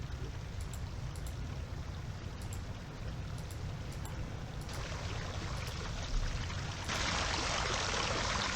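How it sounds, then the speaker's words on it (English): Water pours steadily from two pipes in the cave puzzle game Rhem 2, a constant rushing, trickling stream that grows brighter and fuller partway through, with faint dripping ticks overhead and no talking. "There's water flowing out of both pipes"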